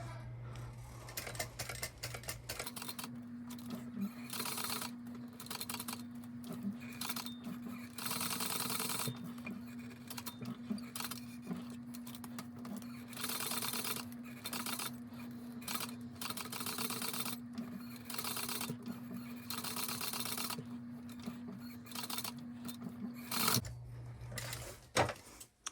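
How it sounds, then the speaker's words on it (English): A sewing machine top stitches around a small bow mouse at one-eighth inch, a close, steady mechanical hum with rapid ticking that runs for most of the stretch, with brief pauses and shifts in speed. "we're gonna top stitch this at 1/8 of an inch all the way around"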